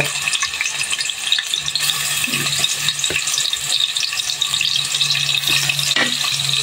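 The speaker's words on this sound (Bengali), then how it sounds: "রসুন বাটা, অল্প আদা বাটা, দিয়ে একটু নাড়তে থাকবো" Onion paste frying in oil in a wok, a steady close sizzle with scraping stirring strokes and a few clinks throughout, no talking.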